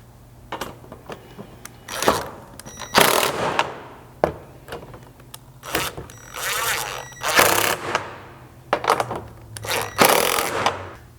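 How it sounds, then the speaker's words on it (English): A 1/2-inch socket tightens bolts on a rear hatch MOLLE panel in an FJ Cruiser, with bursts of sharp ratcheting clicks separated by brief pauses and light metallic handling, all close by. "get yourself a 1/2-inch socket and tighten those up"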